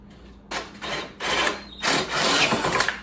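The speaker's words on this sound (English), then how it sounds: "So I got my 1 3/8 inch Forstner bit. We're just gonna drill a hole in here." A 1 3/8 inch Forstner bit drilling a hole into a wooden charcuterie board, giving three rasping, grinding bursts of cutting with short pauses between them, close and fairly loud with a high whine from the drill.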